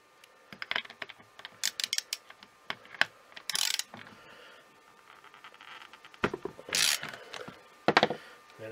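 Socket wrench ratcheting on the fan nut of a Miele motor being taken apart, giving bursts of close, rapid clicking with pauses and some handling clatter in between.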